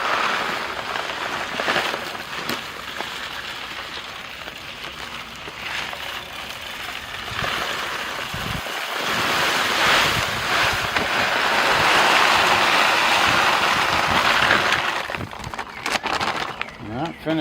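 Coarse bonsai soil pours into the bottom of a pot as a drainage layer while a large buckthorn is repotted, making a continuous gritty rush that swells and fades, with talking over it.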